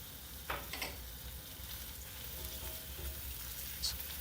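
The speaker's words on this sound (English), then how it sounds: "oil is hot enough, you can now add the chopped garlic" Chopped garlic and scallions frying in hot oil for Filipino fried corned beef, a soft, fairly faint sizzle with a couple of sharp spatula clinks near the start and end.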